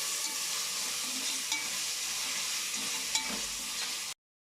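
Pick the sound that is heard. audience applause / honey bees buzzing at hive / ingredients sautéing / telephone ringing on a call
ingredients sautéing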